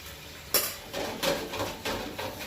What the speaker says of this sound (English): I'm going to add our pasta in here.